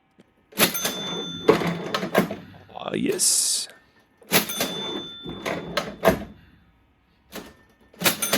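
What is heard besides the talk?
cash register drawers opening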